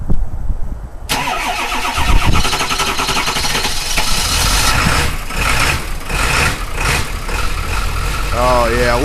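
A 2002 Ford F250 with a 7.3L Power Stroke diesel cold-starts after a brief silence, cranking then catching into a loud, rough, clattering idle close by.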